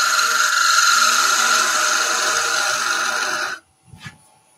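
A wood lathe whines steadily as a parting tool cuts into the spinning wood. The loud, even drone stops abruptly near the end, followed by a brief soft knock.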